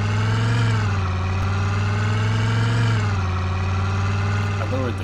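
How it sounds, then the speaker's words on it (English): Corvette engine in the World War Z video game, a loud steady drone with a strong low hum and layered harmonics, the pitch dipping and rising slightly as it revs, running continuously throughout. "I lowered the car's volume a little bit, but it's still pretty loud."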